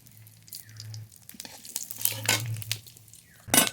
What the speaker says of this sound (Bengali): ফড়ন করে নেব সর্ষের তেল ফড়নে গোটা জিরে